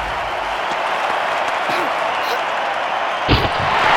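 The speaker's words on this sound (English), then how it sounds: "Well, the crowd will react to that quite rightly." A steady roar from a stadium crowd reacting to an athlete's jump over a bar in the London 2012 PC athletics game, loud and continuous throughout, with a brief swell near the end.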